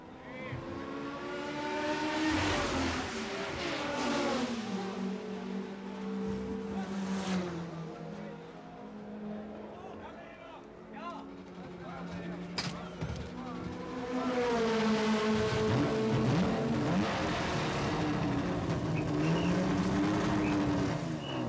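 Factory Porsche race cars roar past at the 1981 Le Mans 24 Hours, engines rising and falling as each car sweeps by, loud and close, with a commentator talking over them throughout.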